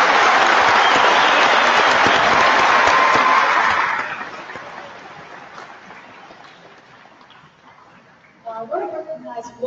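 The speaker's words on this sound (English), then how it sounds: "Let's give our teachers a round of applause." Loud audience applause for teachers at a Newton County awards celebration fills the opening seconds, then fades into scattered claps and murmuring before voices pick up at the end.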